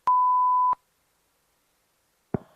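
A single steady electronic beep tone lasts under a second, followed by silence, then a brief click or rustle near the end.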